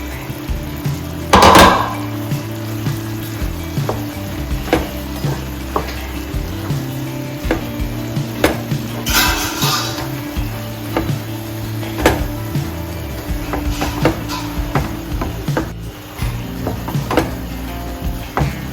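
Roasted oats stirred into boiling water in a pan for oats upma with vegetables, a steady frying-like sizzle and bubbling under repeated clinks and scrapes of a spoon against the pan.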